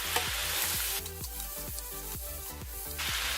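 Stir-fried vegetable noodles with sesame seeds and pepper sizzle steadily in a hot pan while being stirred, a close continuous fry with rhythmic scraping strokes and no speech.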